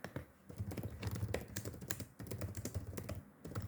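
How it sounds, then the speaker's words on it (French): Rapid typing on a computer keyboard, heard up close as a quiet run of uneven key clicks and taps with short pauses and no talking. "Très agréable ce bruit de clavier,"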